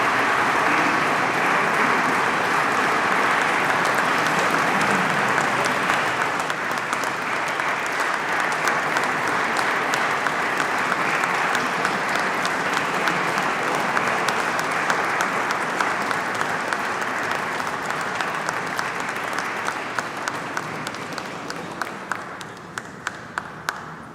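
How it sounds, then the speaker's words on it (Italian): Sustained audience applause at an Alpine choir concert in Fregona, dense even clapping from a large crowd that holds steady for over twenty seconds before thinning to scattered claps at the end. "Il coro alpino ANA, sezionale, che accogliamo con un applauso."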